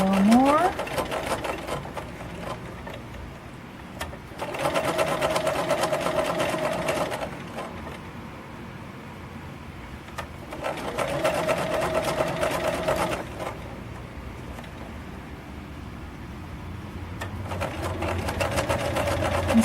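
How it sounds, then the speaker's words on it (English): A sewing machine stitches and gathers fabric for a stuffed monster toy, running in several long, steady bursts with short pauses between them, close and fairly loud. "Keep sewing."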